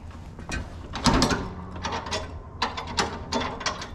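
The cutting-height adjuster on a lawn mower is lowered by hand outdoors in rain, giving close, loud ratcheting metal clicks and clunks in short uneven bursts.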